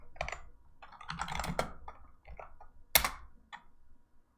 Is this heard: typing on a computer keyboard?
yes